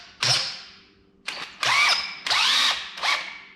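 A power drill in low gear driving a hydraulic pump whirs in four separate bursts, each spinning up with a rising whine under load, then winding down, loud and close.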